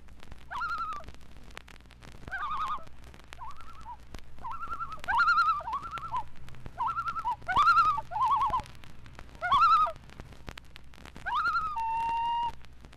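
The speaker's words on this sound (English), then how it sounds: "from the cheerful little Winter Wren to the common loon, the laughing loon" Common loon calling from an Adirondack lake: a series of wavering, hooting wails, mid-distance and fairly soft over faint background hiss, with a companion bird nearby.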